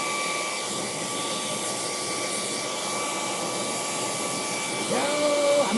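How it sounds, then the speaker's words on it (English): A hair dryer blows with a steady, loud whooshing drone throughout, and a voice briefly speaks near the end. "I might need a stronger hairdryer."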